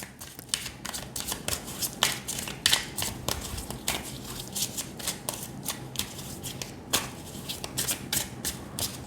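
Tarot cards are shuffled again and again, sharp riffling bursts and soft slides coming in quick uneven runs, close and crisp, with occasional taps as cards are drawn.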